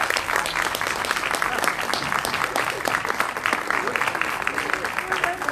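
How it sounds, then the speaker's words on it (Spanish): Loud, dense audience applause at a live cultural event in Paraná, continuous clapping with a voice or two faintly underneath. "Aplauso."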